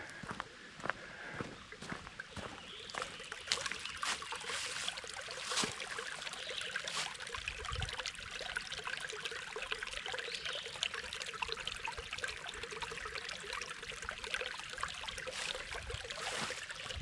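A small creek trickles and flows beneath a bridge along a hiking trail, a steady close wash of running water with a few scuffing footsteps and light knocks mixed in.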